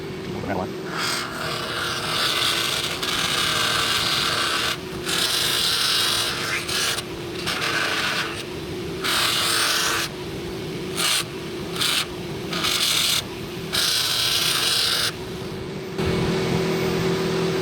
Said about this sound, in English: We're going to sand it well.